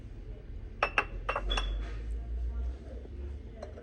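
Glass bowls from a discount-store housewares range knock together as they are handled, giving a quick cluster of bright clinks near the start and a few lighter taps later, close and fairly quiet over a low hum.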